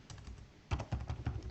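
Code being typed on a computer keyboard, a short burst of soft close keystroke clicks, sparse at first and then a quicker cluster of taps, quiet with no speech.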